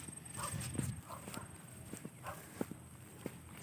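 A carabao (water buffalo) plods through mud pulling a tricycle, with a few soft, spaced footfalls and faint squelching steps heard nearby over a low background hum.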